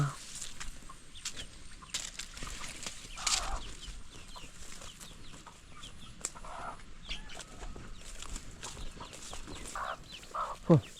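Chickens clucking on a farm, with scattered short calls and brief bursts across a steady outdoor background, moderately distant and fairly faint.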